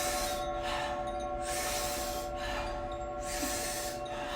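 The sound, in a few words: Someone's powerful breathing through a round mouth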